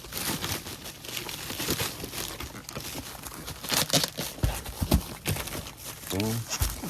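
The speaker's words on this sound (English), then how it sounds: "slide it right into your padded flat rate envelope" A taped package is slid into a padded flat rate envelope, producing crinkling, rustling plastic and paper scuffs with a few sharper crunches, close and moderately loud, while a person talks over it.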